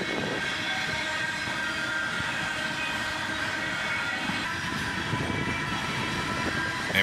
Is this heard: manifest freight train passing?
yes